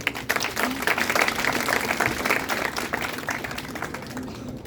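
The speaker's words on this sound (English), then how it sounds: "So we welcome you, sir, with a huge round of applause." An audience at a college HR conclave breaks into a big round of applause, dense and sustained clapping that holds steady for several seconds before tapering slightly.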